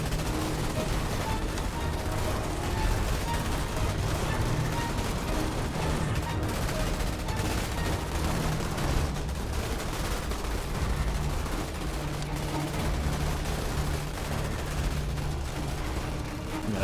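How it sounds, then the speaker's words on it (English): Continuous sustained gunfire and explosions from troopers battling bugs in the real-time strategy game Starship Troopers: Terran Command, a dense unbroken barrage of rapid shots and booms throughout. "I think everyone's firing."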